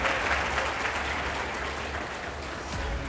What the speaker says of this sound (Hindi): आप जोरदार तालियों के साथ स्वागत कीजिए प्रोफेसर ओम जी उपाध्याय का